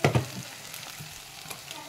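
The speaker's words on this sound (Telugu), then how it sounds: "మిక్సీ పట్టిన పేస్ట్ మొత్తం ఇప్పుడు ఆనియన్లోకి వేసుకుందాం." Masala paste frying with onions in a pan for mutton curry, a few quick stirring scrapes at the start followed by soft, steady sizzling close by.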